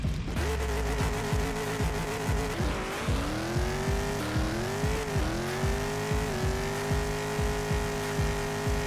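A Pro Modified drag race car makes a 5.68-second pass, its engine a loud, continuous howl that climbs in pitch through several gear changes with brief dips between them, with no voices.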